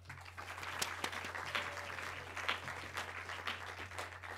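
Audience applause welcoming lecturer Richard Shiff at SVA: a steady, moderately distant patter of many hands clapping in a hall, sustained for a few seconds without anyone speaking.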